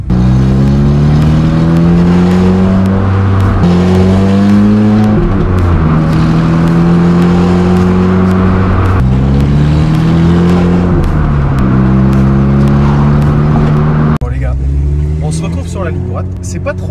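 A Renault Clio 3 RS Cup engine drones loudly from inside the car, climbing through revs and dropping back at each gear change in a repeating pattern, with a voice talking over it throughout.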